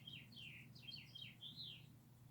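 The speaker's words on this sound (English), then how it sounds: "There's that little purple finch. He always sits out there and sings every morning." A purple finch sings outdoors in the morning, a quick, faint warbling run of bright rising and falling notes that carries on for about two seconds over a low background hum.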